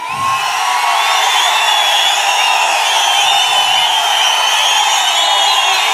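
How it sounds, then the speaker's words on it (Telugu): Dense, steady roar of a large crowd at an outdoor political rally in Palamaner, with continuous clapping and cheering sustained at high volume throughout, no distinct voices standing out. "మీ చప్పట్లే చెప్తున్నా"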